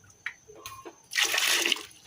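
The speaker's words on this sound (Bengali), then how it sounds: "দিয়ে দিলাম গরম পানি" Hot water pours into boiled lentil dal in a home kitchen as a short, gushing splash that lasts about half a second, following a few soft clinks.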